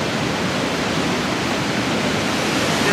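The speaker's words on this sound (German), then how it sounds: "das ist diese Weserwehr, wo Wasser runterfällt." Water pours over the Weser weir in a constant, loud, broadband rush with no pauses, heard close by with no voices.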